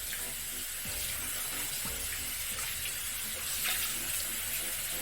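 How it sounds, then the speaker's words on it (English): Cool water runs steadily from a bathroom sink tap while a face is being washed, with faint splashes and a low voice now and then underneath. "Just gonna cleanse with a little cool water"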